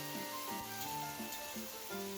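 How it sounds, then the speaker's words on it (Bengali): Onion and ginger-garlic paste frying in a wok for chili chicken, a steady sizzle with stirring scrapes and a few tonal clinks, close and continuous with no talking. "এবার ভালো করে কড়াইয়ে একটু ভেজে নেব পেঁয়াজ আর আদা রসুনটা।"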